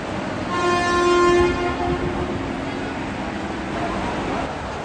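A train at Sealdah railway station in Kolkata sounds a loud, sustained horn for about a second over steady rumbling platform and rail noise.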